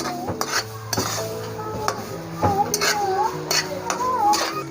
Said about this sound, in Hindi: और अब इनको अच्छे तरीके से मिक्स करेंगे और हल्की सी भुनाई करेंगे।